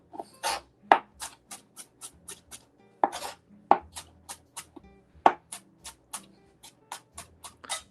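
Onion being chopped on a cutting board for sausage gravy: a steady series of sharp knife strikes, near and fairly loud, around sixteen distinct chops in quick irregular rhythm with no talk.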